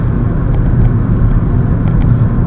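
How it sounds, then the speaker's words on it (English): Loud, steady low rumble of road noise inside a new VW Jetta on the move, a dense drone from around the transmission tunnel with no speech. "it does seem to be a lot of noise coming from the transmission tunnel"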